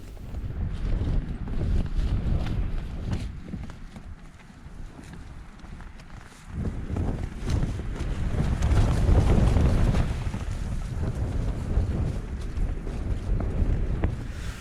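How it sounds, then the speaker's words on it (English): Gusty autumn wind at a mountain campsite, buffeting hard and roaring in uneven surges that rise, drop briefly near the middle, then swell loudly again, with heavy wind rumble on the microphone. "So these gusts are picking up now and I love it."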